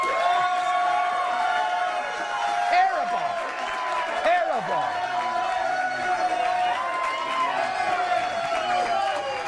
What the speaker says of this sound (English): Most applause ever in this studio.